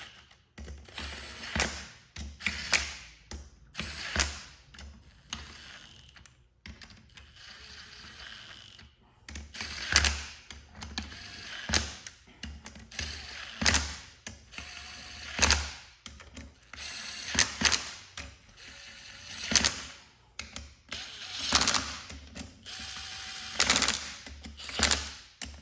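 A ratchet tightens beadlock bolts on the wheel of a 1986 Toyota pickup fitted with 38-inch Milestar Patagonia tires, giving bursts of rapid clicking with brief pauses in between, close and fairly loud.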